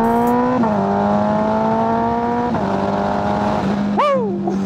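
A Kawasaki ZX14R motorcycle engine pulls hard and loud, its tone climbing through several quick gear changes before one sharp rev sweep near the end.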